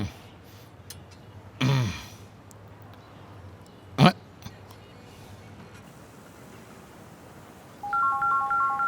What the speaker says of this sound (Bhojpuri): अचानक के कर फोन आ गई।